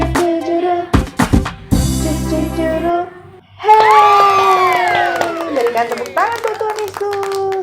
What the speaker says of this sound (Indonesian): Hey, berikan tepuk tangan.